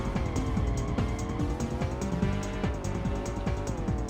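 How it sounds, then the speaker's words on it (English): Racing car engine from Rush 2: Extreme Racing USA drones steadily with rising and falling revs, broken by repeated short tire squeals throughout, loud and continuous with no talking. "I'm gonna change the sound of my engine in my car"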